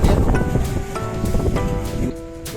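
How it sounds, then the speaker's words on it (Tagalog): Strong wind blows against the microphone during a rainy bike ride on a mountain loop road, a rough, continuous buffeting roar with faint tonal sounds underneath. "Sobrang lakas ng hangin."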